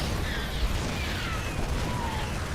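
Siege tank cannon fire in a StarCraft II Terran-versus-Terran match, heard as a dense, continuous wash of battle noise with muffled booms and mechanical clatter, steady and moderately loud throughout with no distinct separate shots.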